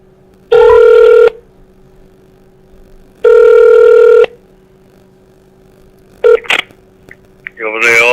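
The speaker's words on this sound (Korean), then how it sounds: "바로 전화 드려볼게요." Two long, loud ringback tones of an outgoing telephone call sound with a gap of silence between them, followed by a few clicks as the line connects and a voice begins to speak.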